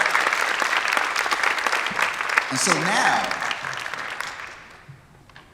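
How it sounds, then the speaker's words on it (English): Ceremony audience applause for university partners at an evening festival event, a sustained clatter of many hands that fades out as a voice starts speaking. "So can we give the partners a round of applause?"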